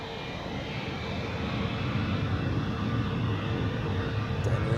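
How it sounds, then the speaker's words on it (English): An Airbus A320 departs on runway 28 at Zurich airport, its engines a steady, broad, loud roar that holds and swells slightly throughout, with no talking. "Then we have another departure on 28. I guess this is the A320 to Paris."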